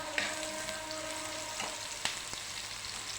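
Red, green and colored peppers sizzle steadily in a hot pan, with a few light clacks of stirring over the continuous frying hiss.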